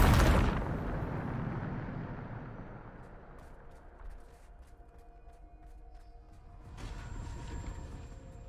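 A Bombarda blasting spell in a video game goes off as one loud, near explosive boom at the start, then a long decaying rumble with scattered debris and faint ambience.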